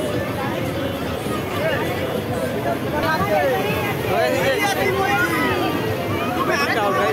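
A large crowd mills about at a busy steamer ghat, a dense hubbub of overlapping voices and chatter filling the scene throughout, with nearer people talking over the babble.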